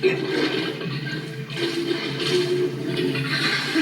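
Rushing water pouring straight down in the video game Zelda: Twilight Princess, a steady close wash of flow that swells and eases in waves, with no talking.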